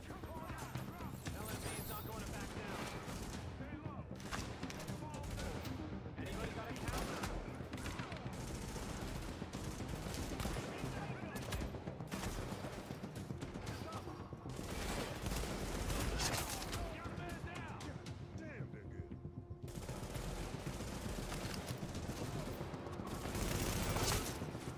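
Sniper gunfire in the shooter video game Tom Clancy's The Division, loud rapid bursts of shots and fusillades filling the whole stretch, dense and continuous with brief lulls, mixed with game noise.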